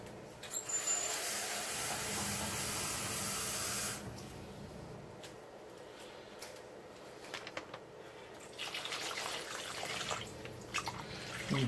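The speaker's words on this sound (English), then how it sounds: "I'm just gonna fill this up with some water." Water rushes from a tap into an air fryer pot for turkey legs, a loud steady hissing spray for about four seconds, then quieter trickling and drips before the flow picks up again toward the end.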